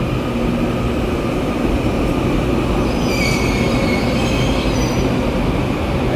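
An EMU812+EMU811 commuter train departs Fengyuan station on Taiwan's Mountain Line, heard up close as a loud, continuous rumble of rolling wheels. Thin, high metallic squeals of the wheels on the rails ring out over the rumble.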